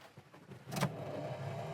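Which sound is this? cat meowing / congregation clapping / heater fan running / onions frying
heater fan running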